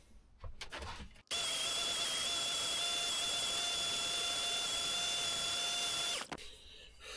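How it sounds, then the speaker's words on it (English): A large electric sander runs with a steady high-pitched whine for about five seconds after a short start-up, then cuts off, close and loud with no talk. "Right, I'm going to use the big sander."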